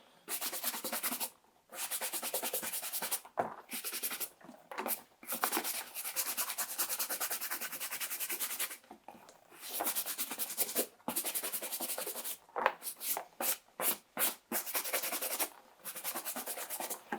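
A leather baseball glove being buffed quickly with a brush, brisk continuous scrubbing strokes in long bursts separated by brief pauses, close and fairly loud with no talk.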